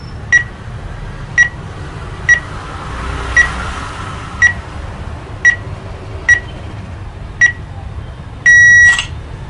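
A phone camera self-timer counts down with evenly spaced short beeps, about one per second, clear and close over faint room hum, ending in a brief rapid burst of tones.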